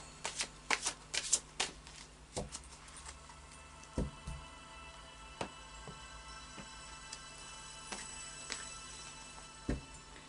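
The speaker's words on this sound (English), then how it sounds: "So a final shuffle of the Anna K Tarot" A deck of Anna K tarot cards is shuffled close by, with a quick cluster of crisp riffling flicks at the start and then scattered single taps and slides, quiet and without talk.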